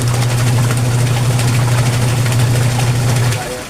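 A spin dryer motor hums loudly and steadily with a strong low drone, then winds down slightly at the end.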